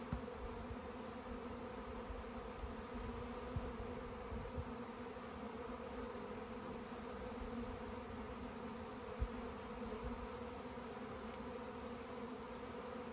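Bees buzz steadily in a continuous drone, many insects flying around hives beside a truck, with a few faint knocks in the background.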